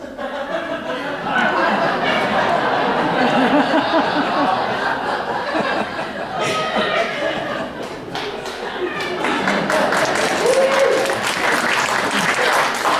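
Audience applause at a community musical theatre matinee, loud and sustained with scattered laughter and chatter woven through, swelling again near the end.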